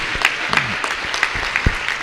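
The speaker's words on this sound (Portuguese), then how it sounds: "Pode bater mais palmas para exaltar o nome de Jesus Cristo." Church congregation clapping during a lively worship service, steady dense applause with scattered louder claps and some voices mixed in.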